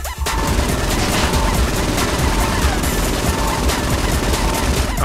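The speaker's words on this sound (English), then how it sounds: "I need to shoot him in the head now" Saints Row 4 video game gunfire: dense, rapid automatic shots crackle continuously and loudly, forming a sustained fusillade with no breaks.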